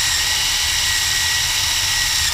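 Power drill boring through a part during an L80E transmission heavy-duty kit install, a steady loud high-pitched whine running continuously without pause and no talking.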